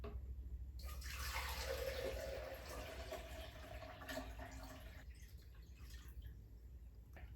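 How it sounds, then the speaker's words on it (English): One liter of distilled water is poured into a blender in a steady, splashing stream that lasts a few seconds and then trails off into faint drips. The pour is close and has no talk over it. "I have measured out here 1 liter of my distilled water, and I'm going to add it into my blender."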